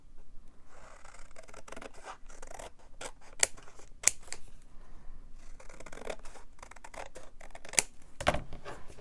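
Scissors snip through paper for a dark Halloween journal kit, a series of close, crisp cuts at an uneven pace with rustling of the sheet between snips and no speech.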